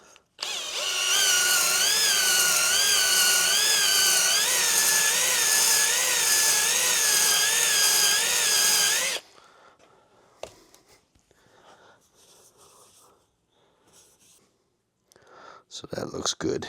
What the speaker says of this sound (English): I'm going to give this cylinder a nice quick hone